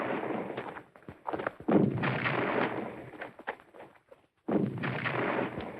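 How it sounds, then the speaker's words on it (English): Repeated heavy booms of distant gunfire rumble one after another, with broad noisy blasts and a brief lull before another burst. "Was that gunfire?"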